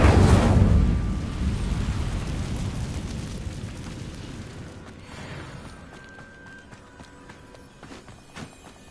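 Incendio fire spell in Hogwarts Legacy bursts with a loud whooshing roar at the start, then a crackling, rumbling burn that slowly fades over several seconds.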